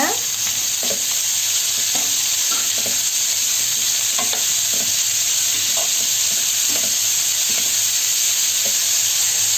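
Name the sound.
stir-frying beans, carrot and cabbage for Schezwan fried rice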